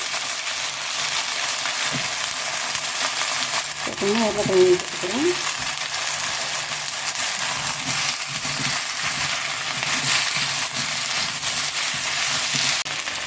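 Steady, dense sizzling of eggplant, drumstick and potato frying in a pan, a continuous crackle with brief stirring scrapes, no talking.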